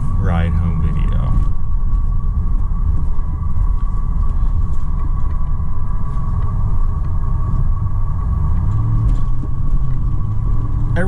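Stock truck engine with factory exhaust while driving, a steady low rumble and drone under someone talking throughout, close and continuous with a faint rise in engine note near the start.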